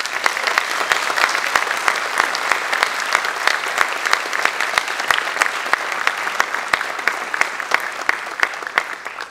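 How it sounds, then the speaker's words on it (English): A school auditorium audience applauds newly inducted National Honor Society members with sustained, steady clapping that stays loud and even from start to finish, with no talking over it. "Please join me once again in applauding all of our new National Honor Society members."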